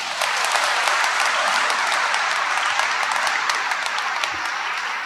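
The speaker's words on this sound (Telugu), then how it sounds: "చప్పట్లు కొట్టరా?" Audience applause fills a Catholic assembly's closing ceremony at a cathedral in Kurnool, a steady, dense wash of many hands clapping that holds evenly throughout with no voices breaking through.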